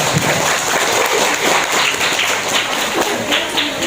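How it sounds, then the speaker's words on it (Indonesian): Loud, dense audience applause at a Maulid Nabi religious gathering in Sikijang, Kampar, Riau, honoring Pak Kadis, a continuous close roar of many hands clapping with no talk over it. "Ayo tepuk tangan buat Pak Kadis."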